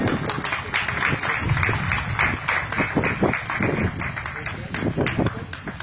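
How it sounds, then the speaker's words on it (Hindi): An audience breaks into sustained, dense applause with many overlapping hand claps and cheering voices mixed in, holding at a fairly even level throughout. "तालियां।"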